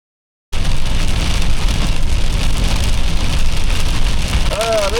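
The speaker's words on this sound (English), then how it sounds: "Sleet all over the road. We're getting hit hard." Sleet pelts a car driving on a road, a dense, steady rattling patter over rumbling road noise that starts abruptly and runs close and loud throughout.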